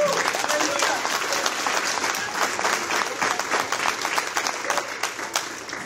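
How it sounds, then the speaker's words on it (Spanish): A church congregation claps together during a Spanish-language sermon, loud rhythmic clapping from many people that continues steadily throughout. "Dele palmas al Señor si quieres hacerlo."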